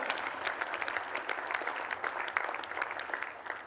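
A live studio audience applauds a volunteer named Nathan, a steady wash of many hands clapping throughout, crowd-wide and continuous with no talking.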